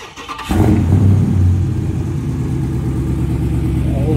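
A Dodge Charger Scat Pack with the 392 engine fires up and revs hard close by, then holds a loud, rumbling, steady drone for several seconds.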